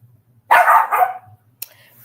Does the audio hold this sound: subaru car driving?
no